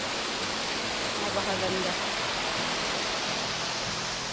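Steady broadband rush of water flowing at Seto Waterfalls in Iwayado Park, a continuous near roar without breaks, with a voice speaking briefly over it.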